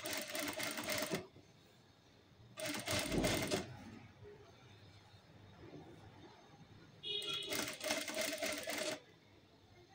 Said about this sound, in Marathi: अशी एकसारखी व्यवस्थित टीप मारून घ्या.